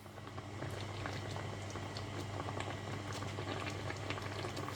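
A pan of bacon, leek and mushroom pie filling bubbles and simmers steadily on the stove, a constant soft boiling patter close by with no talking.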